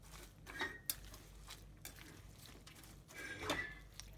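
A pepper pickle is mixed in a bowl, with quiet scraping and a few sharp clinks of a spoon against the dish, soft and intermittent in a still room.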